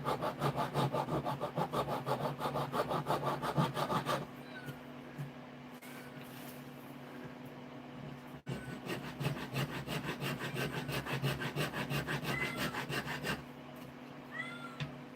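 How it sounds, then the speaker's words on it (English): Steady back-and-forth rasping of a narrow metal file working on a custom Buck 110 folding knife, loud and close, with a short pause mid-way before the strokes resume; a cat meows faintly in the background. "put a narrower file in there. Get it all the way to the end there."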